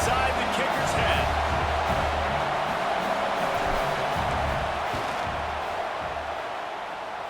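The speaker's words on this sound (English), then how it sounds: "This crowd trying to do its part to get inside the kicker's head." Steady stadium crowd roar during a field goal attempt in College Football 26, a broad continuous wash of noise that slowly fades slightly, with a commentator speaking over it.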